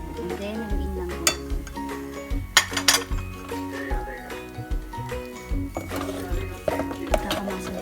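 Spoon clinking and scraping against a pot while churros dough is stirred with evaporated milk, irregular knocks and rattles throughout, with a faint voice and background sound underneath.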